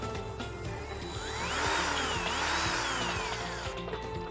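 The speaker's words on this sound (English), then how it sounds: "Once you have it started, then you can use your power tool to finish it off." A power drill drives a self-tapping screw into an ornamental fence section, its motor whining and rising in pitch as the screw bites, then easing off, steady and close for several seconds.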